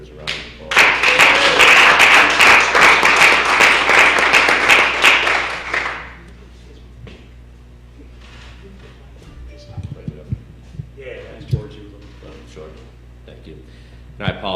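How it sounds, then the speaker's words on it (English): A county freeholders' meeting audience applauds a high school state champion, a dense burst of clapping lasting about five seconds before fading into a quieter room with scattered knocks and small thuds. "And that deserves a round of applause."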